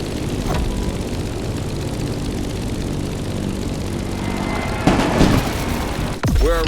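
A propeller airplane in The Crew Motorfest descends toward Honolulu in Hawaii, a steady droning engine hum heard up close, with a whoosh and a brief swirling sweep near the end.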